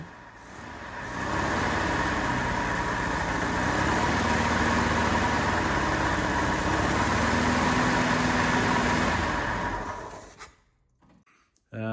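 A 2-litre Ford Pinto petrol engine in a Mark 2 Ford Escort van idling steadily with a low, even rumble and hum for about ten seconds, then cutting off abruptly.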